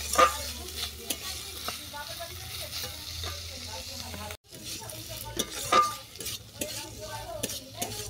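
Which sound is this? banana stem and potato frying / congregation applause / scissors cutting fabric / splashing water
banana stem and potato frying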